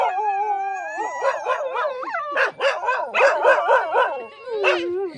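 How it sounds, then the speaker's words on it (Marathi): Dogs bark and howl repeatedly, close by and loud, their overlapping calls rising and falling with no pauses. "कुत्रे कसे भुकायले हे"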